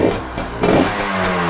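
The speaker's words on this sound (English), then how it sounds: "So listen to that engine again." A KTM Freeride 250R dirt bike engine revs up close, its buzzing, rattly note rising and dropping in short throttle blips over a bit more than a second.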